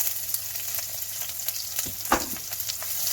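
Shallot and ginger fry in oil with cinnamon, star anise, clove and cardamom, giving a steady close sizzle broken by a brief clatter of stirring near the middle.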